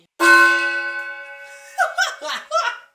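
A bell strikes once, ringing clearly with a long sustained tone that fades, followed by a few bursts of laughter, during a comedy podcast.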